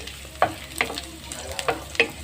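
Garlic frying in a hot pan, a steady low sizzle with several short scraping stir strokes at irregular intervals, close and moderately loud with no talk.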